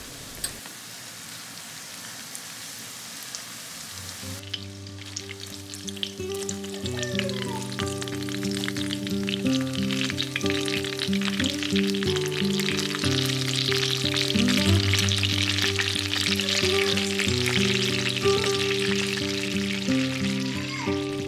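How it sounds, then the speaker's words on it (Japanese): Shallow-frying in a frying pan with about a centimetre of oil: a steady, dense sizzle and crackle that swells and stays loud throughout, with no talking. "フライパンに底1センチくらいの油を入れて揚げ焼きにしていきます。"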